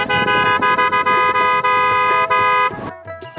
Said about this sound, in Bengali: এই সিএনজির হর্নটাও ছিল যেন ঠিক এনা পরিবহনের মতোই